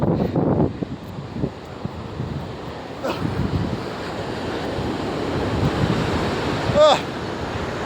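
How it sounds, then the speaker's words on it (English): Steady rushing water from the river at Kajulu waterfalls fills the clip, a dense broadband wash with gusts of wind buffeting the microphone and a brief higher-pitched call near the end. "The sound of the river."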